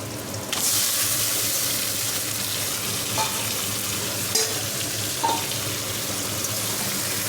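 Marinated chicken goes into a pan of browned fried onions and starts frying loudly, with a steady hiss and stirring scrapes, nearby and with no voices.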